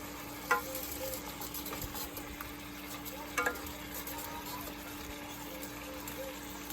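Chili cooks in a pan on the stove, stirred and flipped with a low steady sizzle and a couple of sharp scrapes, up close and without talk.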